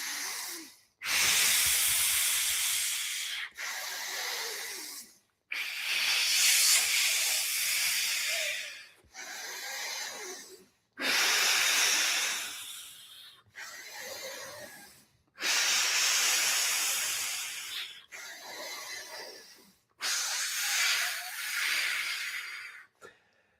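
Forceful breathing-exercise exhalations pushed out through a clenched fist, about nine long loud hissing blows of two to three seconds each, separated by brief silent pauses for inhaling, no talking.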